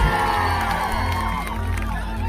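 A political rally crowd cheers, whoops and applauds loudly and continuously, a dense wall of voices and clapping without a break.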